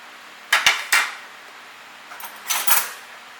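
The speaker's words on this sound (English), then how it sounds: "Then I'm going to flip the salmon once." Salmon flipped in a pan: a few sharp clinks and scrapes of a metal spatula against the pan in two quick pairs, close and clear over a quiet background.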